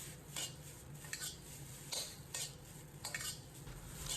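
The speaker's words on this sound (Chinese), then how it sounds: "这个时候的米粉已经在锅中刷刷作响" Rice noodles stir-fried with egg over high heat in a wok, a spatula scraping and tossing in repeated rhythmic strokes with a faint sizzle underneath, close and fairly quiet.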